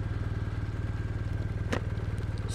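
A 2023 BMW R1250R motorcycle engine runs steadily under way, a loud, even low throb pulsing rhythmically throughout with wind noise, and a brief faint clatter near the end.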